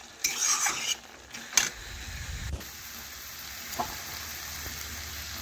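Sugar being stirred into a fish-head mixture in a frying pan, with a few scraping strokes and clinks early on, then a soft low sizzle settling under quieter occasional utensil touches.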